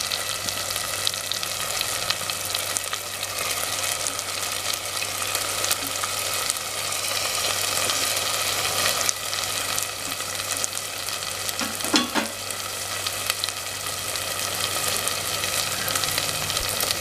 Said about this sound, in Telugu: ఈ మిశ్రమంలోకి చేప ముక్కల్ని వేసుకుందాం.